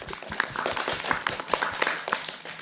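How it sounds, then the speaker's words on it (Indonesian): Children at an Islamic kindergarten, RA Al Munawwarah in Tambun, clap their hands in a loose, uneven patter of sharp hand strikes, fairly near and moderate in level, with faint voices mixed in. "Kita kasih tepuk tangan dulu."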